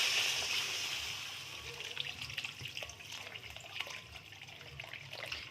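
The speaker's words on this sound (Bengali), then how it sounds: "এবার আমি জল দিয়ে দেবো।" Water poured into a simmering curry gravy in a pan for egg omelette curry, a soft steady trickling and splashing that gradually fades, fairly quiet with faint kitchen clatter.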